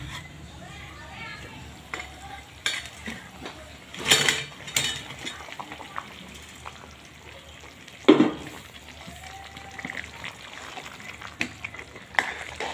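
Fried Maggi masala balls, crisp outside and soft inside, being dropped into a simmering gravy in a pan: soft sizzling and bubbling with a few sharp clinks and stirring knocks, plus one louder splash-like burst midway.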